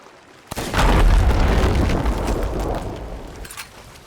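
Eleven powder kegs detonating together in a video game, a single loud booming blast that rumbles heavily for a few seconds before fading, with faint crackling at the tail.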